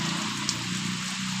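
Steady monsoon rain falls continuously on a village in the late morning, a dense even hiss with soft patter of drops, close and constant, with no talking.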